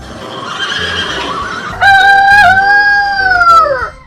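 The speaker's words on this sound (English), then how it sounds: "Horse." A horse gives one loud, close whinny, a long wavering neigh that rises sharply and slowly falls away over about two seconds, following a brief lower rustle, with no talk.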